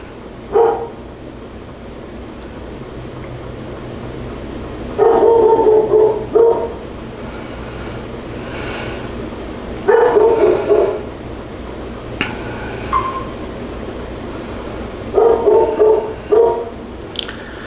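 A dog barks in short bursts of several quick barks, repeating every few seconds at moderate distance, with quieter pauses in between.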